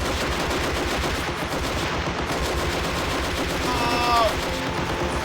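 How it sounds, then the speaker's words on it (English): Steady gunfire crackles throughout a battle in the war game Army Men of War, a dense rattle of shots with a brief whizzing whine of bullets passing near the end, and chatter mixed faintly underneath. "Just bullets flying past his head, look."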